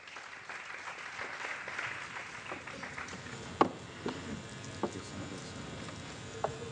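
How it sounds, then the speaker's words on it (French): An audience at a school competition finale applauds continuously, its dense clapping swelling early and then settling. A few louder, sharper claps or taps punctuate the later part. "sous vos applaudissements s'il vous plaît"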